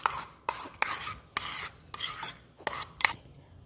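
Homemade aloe vera gel being stirred after two drops of green liquid colour are added, giving repeated scraping, rasping strokes of a spoon against a bowl in a steady rhythm, close and fairly quiet, with no talk.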